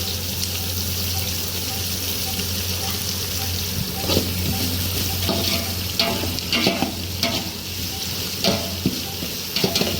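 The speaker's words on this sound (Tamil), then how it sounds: "இப்போ இதுலேயே புதினாவையும் ஆட் பண்ணி வதக்குனா நல்ல வாசனையாக இருக்கும்." Vegetables and mint leaves for a vegetable biryani sizzle steadily in a pan, with repeated scraping and stirring clatters growing busier toward the end.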